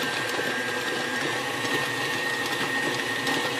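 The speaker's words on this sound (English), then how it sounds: "Turn it up a little bit more with that dough hook. It'll knead it together." A stand mixer with a dough hook kneads yeast roll dough, giving a steady, close whirring motor drone with a faint high whine and no pauses.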